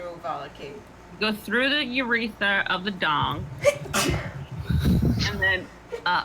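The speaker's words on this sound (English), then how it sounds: "excuse me, I have to sneeze again" A single sneeze bursts out near the middle of ongoing conversation, with voices talking before and after it.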